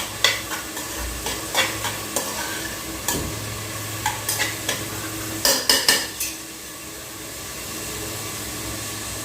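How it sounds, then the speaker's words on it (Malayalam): A spoon stirs and scrapes salted water into a broken wheat upma mixture in a pan, giving a run of sharp clinks and scrapes over a soft sizzle that fades to quiet near the end. "ആവശ്യത്തിനുള്ള ഉപ്പുവെള്ളം കലക്കിയ വെള്ളം ഞാൻ ഒഴിച്ചു കൊടുത്ത് എല്ലാം കൂടി ഇളക്കി യോജിപ്പിച്ച് കൊടുക്കുകയാണ്"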